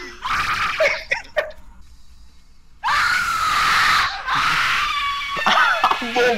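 A monster's shrill screams in the horror video game Slendytubbies, several loud, long wailing bursts close up, separated by short gaps and rapid game noises.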